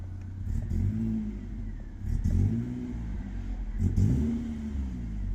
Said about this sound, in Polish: Motor wcale nie jest zimny, można zrobić delikatną przegazówę.